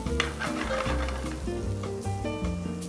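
Already-cooked octopus sizzling in a hot pan with onion and garlic, a dense close crackle and hiss that carries steadily for a few seconds with no voices.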